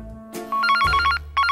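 An electronic telephone ringtone on a TV dating show stage plays loud and close as two short bursts of trilling rings, with a brief gap between them.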